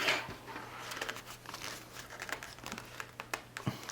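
Tape being pulled and handled while assembling an Estes Hornet model rocket, giving a stretch of crinkling and small crackling sounds close up with scattered sharp ticks.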